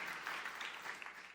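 A church congregation applauds during a sermon, a brief wash of dense clapping heard faint and distant, steady without a break.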